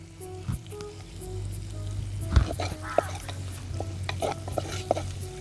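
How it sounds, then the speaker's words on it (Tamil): Curry leaves dropped into hot oil with golden brown onions in a village kitchen, frying over a steady low hum, with irregular crackles and clinks of stirring close by. "இப்போ நம்ம கறிவேப்பிலையை போட்டுறோம்."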